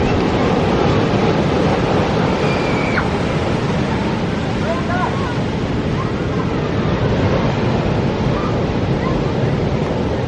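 Ocean surf rolling in steadily at Kynance Cove, Cornwall, a broad continuous wash of waves with wind buffeting the microphone throughout.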